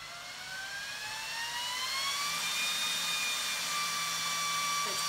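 Server cooling fans ramping up to full throttle, a steady loud whoosh of rushing air with several rising whine tones that climb and then hold, continuous and close throughout.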